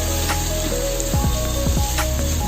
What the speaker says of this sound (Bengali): ফ্রাই করতে করতে আমি এখানে দিয়ে দেবো লঙ্কা